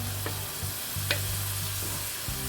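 Chopped tomatoes stirred in a hot pan, a soft steady sizzle broken by a few quick scraping strokes of the spoon, no talk.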